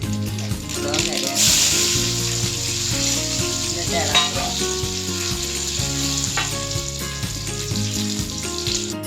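Mustard seeds and shallots crackle and sizzle in hot oil for a Kerala-style green bean (payaru) thoran, a dense, steady frying hiss with popping throughout, while a voice talks over it briefly.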